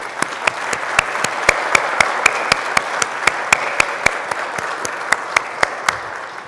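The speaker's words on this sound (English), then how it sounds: "let's take a moment and give applause to our veterans and those who have served our nation" A Lutheran church congregation applauds veterans during a Sunday worship service, with soft, steady applause underneath and a single sharp clap ringing out at a steady, even beat.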